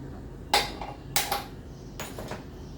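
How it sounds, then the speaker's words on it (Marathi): A gas stove being lit in a home kitchen before roasting jowar puffs, with three sharp clicking bursts spaced about half a second apart, close and distinct against a quiet background. "त्यासाठी गॅस पेटवते"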